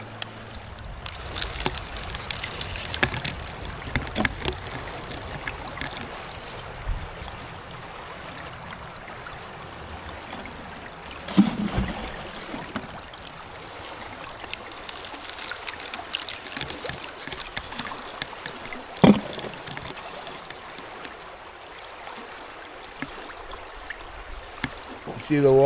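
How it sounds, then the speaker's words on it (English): Water rushes steadily through a gold-prospecting sluice box in a stream, a continuous broadband wash with small splashes and gurgles that surge up and down throughout, with occasional knocks and bumps. "See the water fluctuating up and down, up and down."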